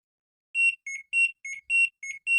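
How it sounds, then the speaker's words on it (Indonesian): A washing machine door buzzer beeps in a steady repeating pattern, seven short high-pitched tones with brief gaps, sounding because the door is not connected, clear and close with no other sound. "Ini adalah suara buzzer karena pintu tidak kita koneksikan."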